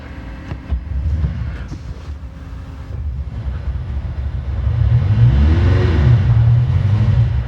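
An electric-swapped Land Cruiser drivetrain spinning up on its first power-up starts with some clunks and low rumble, then builds into a louder, steady whine and hum for the last few seconds.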